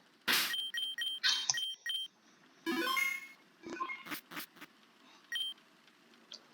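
Electronic beeps sound in a Pokemon Rejuvenation game, several short tonal bleeps spaced irregularly among other brief game effects, fairly clear with no talking.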